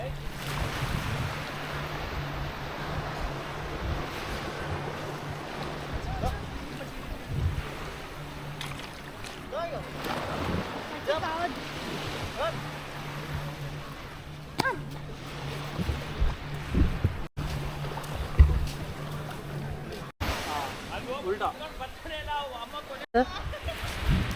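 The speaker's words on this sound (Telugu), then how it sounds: "మనం ఓమ్ బీచ్లో మనకి అలలు ఎక్కువ ఇంటెన్సిటీ లేవు" Gentle, low-intensity ocean waves wash steadily at Om Beach in Karnataka as a continuous surf hiss with wind, while a low boat-like hum runs underneath and voices are faintly present.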